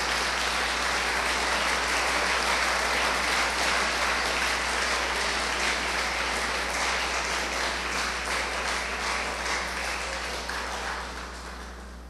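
Sustained applause from a Sunday church congregation, a full steady roar of clapping hands filling the room over a constant low hum, fading gradually in the final seconds.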